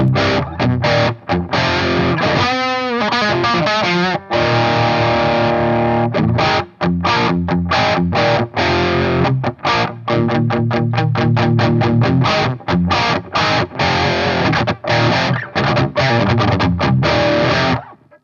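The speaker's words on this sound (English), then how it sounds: "this amp actually sounds good even on bedroom volume with 4x12s" Loud, heavily distorted electric guitar through a ZUTA GBG120 120-watt tube amp and 4x12 cabinets at bedroom volume: chugs and sustained chords with rapid palm-muted rhythms and sharp stops, full and thick throughout.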